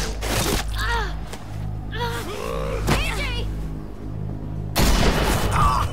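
Gunshots in The Walking Dead: The Final Season video game, a few loud sharp bursts, one at the start and a heavier blast near the end, with voices and gasps between them.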